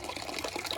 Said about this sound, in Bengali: আমার বাড়িতে টাইম কলে জল পড়ছে